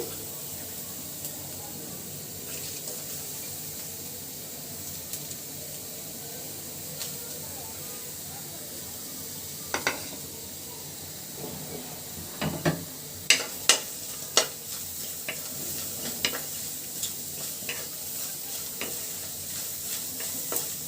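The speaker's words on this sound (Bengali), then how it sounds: "কড়ার ভিতরে দিয়ে দিচ্ছি আমি পেঁয়াজ কুচি" Chopped onion frying in a pan for a chicken curry, giving a soft, fairly faint sizzle with occasional stirring clatters and a burst of sharp utensil clicks partway through.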